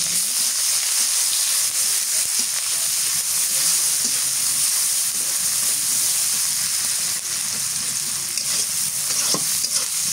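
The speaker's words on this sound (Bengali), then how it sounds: "পেঁয়াজ মরিচ ভাজা হয়ে গেছে।" Chopped onions and green chilies with black cumin frying in a pan, a loud, steady sizzle and hiss filling the whole stretch, with occasional scraping stirs.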